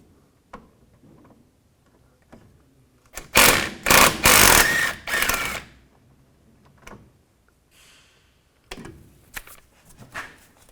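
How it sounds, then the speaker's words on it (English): Ratcheting and metallic clicking of a 12mm socket loosening a bolt on the intermediate steering shaft of a 2004-10 Toyota Sienna, a loud burst of rapid clicks midway, then a few softer ticks near the end. "Now use a 12mm socket and remove this bolt."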